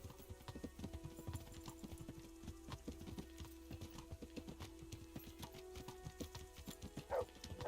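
Horse hooves in Kingdom Come: Deliverance clip-clop in a steady walking rhythm, quiet and close, alone for the most part with a short louder burst near the end.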